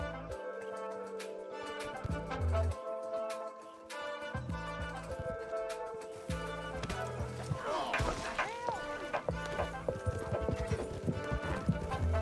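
Rhythmic clip-clopping of horse hooves on a hard surface in Red Dead Redemption 2, with occasional thuds and a short whinny, set against a game soundscape.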